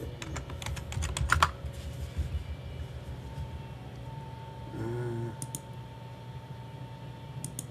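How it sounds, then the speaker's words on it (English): Typing on a computer keyboard, a close burst of quick clicking keystrokes near the start, then sparse taps over a low steady hum. "I'll type up in there quick."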